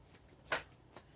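A short riffle of tarot cards being shuffled, one crisp burst followed by a fainter flick, quiet and close with no talking.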